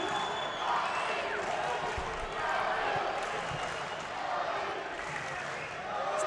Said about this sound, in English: The crowd is getting loud. Booing.